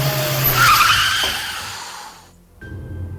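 A car brakes hard with a loud, sustained tire screech on a rural road, the skid swelling and then cutting off abruptly, followed by a brief thin tone and low rumble.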